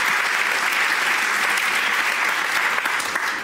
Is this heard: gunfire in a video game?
no